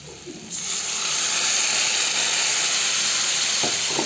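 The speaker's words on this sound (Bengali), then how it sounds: "হলুদ গুঁড়ো, লঙ্কা গুঁড়ো, নুন, চাট মশলা সব কিছু দিয়ে ভালোভাবে কষিয়ে নেব" Onion with turmeric powder, chili powder, salt and chaat masala sizzles and hisses steadily in a hot pan for an egg tarka, rising sharply to a loud, continuous fry, with no voices.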